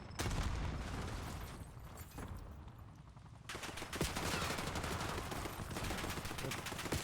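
Rapid bursts of automatic gunfire in Black Ops 6 fill the scene at steady loudness, with a brief lull before dense firing resumes; a voice speaks briefly over it.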